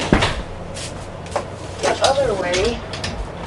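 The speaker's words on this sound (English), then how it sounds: "close my door there real quick" A door swings shut indoors with a couple of short knocking thuds, fairly close, while a voice is faintly heard in between.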